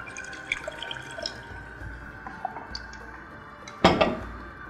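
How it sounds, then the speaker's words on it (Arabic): Water is added to a cooking pot on the stove while kofta with yogurt and tahini is being made, with scattered light drips and clinks, then one sudden close splash that trails off. "هزود ميه"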